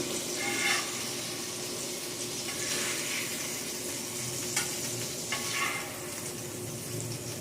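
Burger and eggs frying together on a flat griddle, giving a steady, dense sizzle that stays even throughout, with occasional brief scraping or shifting sounds and no talking.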